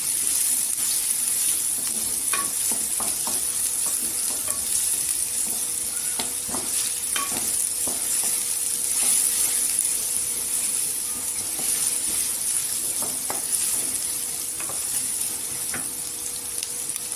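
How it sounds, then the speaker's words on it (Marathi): Chopped onions sizzle and fry in oil in a pan for an aubergine curry, with a steady hiss broken by repeated scraping clicks of a spoon stirring, close and alone with no talk. "इथे कांदा आपल्याला गोल्डन नाही करायचा आहे खाली सॉफ्ट करायचा आहे एकदम"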